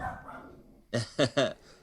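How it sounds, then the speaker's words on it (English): Excited dogs give three quick, loud barks in a row after a voice fades, with a brief lull before the burst. "your dogs are excited by it."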